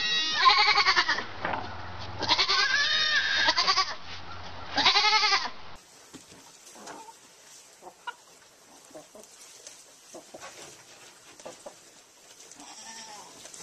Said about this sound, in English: that was one of those midget goats